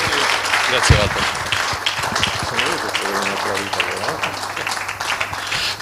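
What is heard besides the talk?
audience applause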